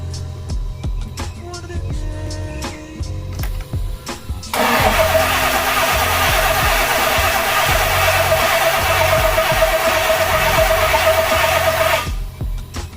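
A turbocharged OBS engine cranks after some garage clatter, fires and settles into a loud, close, steady idle with a strong mid-pitched drone that cuts off near the end.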